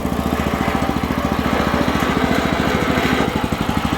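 A WEIMA Deluxe WM900M-3 walk-behind tractor backs up in reverse, its single-cylinder engine chugging in a fast, even, loud putter close by, with no talking over it.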